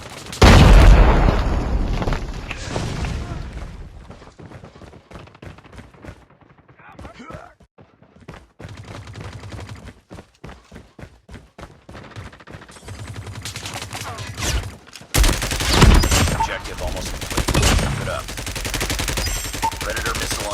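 Grenade blast and bursts of automatic gunfire in Call of Duty Mobile, with a loud boom at the start, rapid crackling shots through the middle and a heavy second explosion near the end, over game voice callouts.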